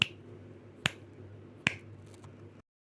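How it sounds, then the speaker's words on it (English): Three sharp, isolated finger snaps land about 0.8 seconds apart, each a crisp click over a faint steady background hum, with no talking. "This is how finger snap sound."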